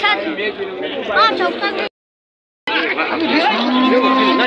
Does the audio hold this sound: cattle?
yes